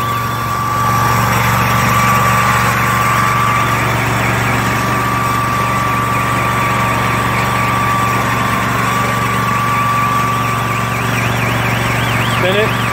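A Beavercar rail speeder's small engine runs steadily on a rail test run, giving a loud, unbroken mechanical hum with a constant low drone that carries through the whole stretch.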